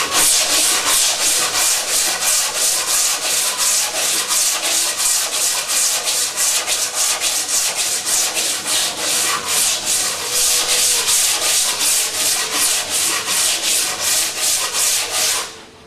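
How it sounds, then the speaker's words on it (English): Wood being sanded by hand with coarse 80-grit sandpaper on a rocking chair headrest: rapid, rhythmic back-and-forth rasping strokes, close and steady, stopping at the end. "sand it smooth with 80 grit sandpaper."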